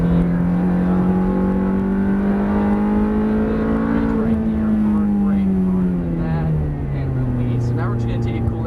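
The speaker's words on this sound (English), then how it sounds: "And now accelerate out." A Ferrari on a race track accelerating out of a corner, its loud engine note holding steady then sweeping down as gears change and rising again, close and continuous over the whole stretch.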